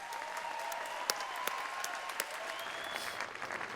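Audience applause at the opening ceremony of the 2018 BC Games in Cowichan, a moderate, steady patter of clapping with a few sharper claps standing out, heard at a distance.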